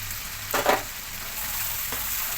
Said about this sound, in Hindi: और ये मसाले को आपको अच्छे से भुनने देना है।